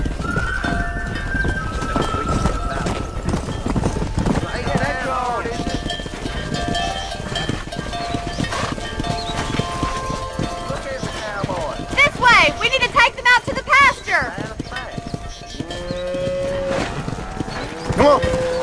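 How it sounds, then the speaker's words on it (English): Horses and cattle being herded down a road in the video game Red Dead Redemption, with continuous hoof clip-clop, occasional mooing and neighing, and loud busy game sound throughout. "Herd the cows down the road."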